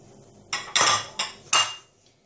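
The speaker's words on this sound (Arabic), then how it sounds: "غادي نخلطو جميع هاد المكونات باش يندمجوا مع بعضياتهم" Biscuit dough ingredients, with cocoa added, being mixed in a bowl with metal utensils: four distinct clinking, scraping strikes in quick succession, close and moderately loud, with no talking.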